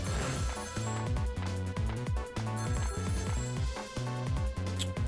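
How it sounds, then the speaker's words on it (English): A telephone rings in the Ghost Trick game, a repeated trilling bell pattern pulsing steadily over loud background music, with no speech. "That telephone call!"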